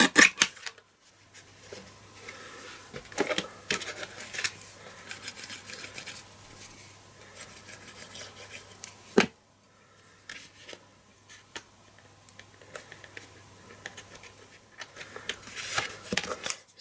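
Cardstock for a Fancy Fold card being trimmed to one inch on a paper trimmer, heard as faint, close scraping and sliding strokes, with one sharp cut partway through and quieter stretches between.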